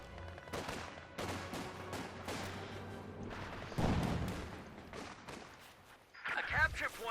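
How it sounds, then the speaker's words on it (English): Jaeger infantry rifle fire in Company of Heroes 2, a burst of crackling shots and distant battlefield gunfire, heard fairly quietly beneath an ongoing commentator's voice, with a heavier thump partway through. "Jaegers they're firing back"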